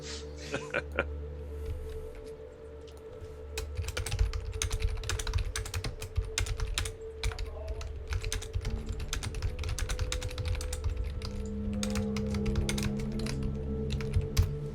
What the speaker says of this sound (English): every time I hear you typing